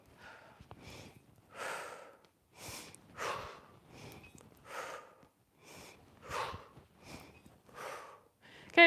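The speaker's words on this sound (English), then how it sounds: "For the snatch, it's going to look like exhale back, inhale up, exhale overhead." Forceful rhythmic breathing during kettlebell snatches, sharp exhales and quick inhales alternating in a steady pattern of about ten bursts, close and loud with short pauses between, no speech.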